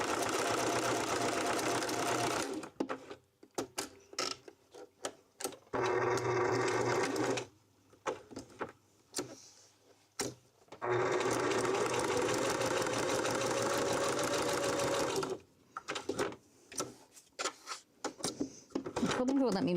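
A sewing machine runs a straight back stitch through rope for coasters and hot pads, whirring in several bursts of a few seconds each with pauses between, up close and loud, while a person talks in between runs.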